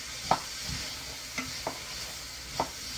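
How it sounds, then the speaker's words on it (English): Steady hiss of onions and celery sizzling in a hot pot, with a few sharp utensil clinks from stirring scattered throughout. "Hear that sizzle?"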